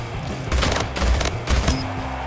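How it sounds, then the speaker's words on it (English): Battle rifle firing in the video game Splitgate, three loud bursts of gunfire spaced about half a second apart, each a tight cluster of punchy shots over steady game ambience. "This is a battle rifle."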